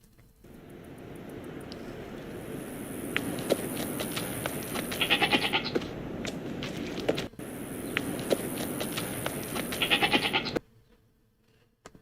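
Goats in the 2015 film Embers bleat in a few clear, close calls over steady outdoor ambience, with two bursts of bleating before the sound cuts away to near silence.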